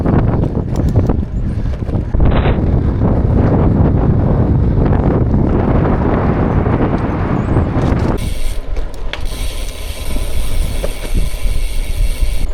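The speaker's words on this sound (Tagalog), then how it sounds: "Ang lakas ng hangin." Strong wind roaring over the microphone during a long-distance bike ride in the UK, a loud buffeting rumble that gusts heavily before easing into a lighter, steadier hiss with a high whine.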